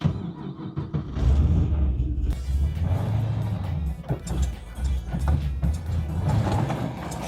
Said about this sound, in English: here goes first drive of the FD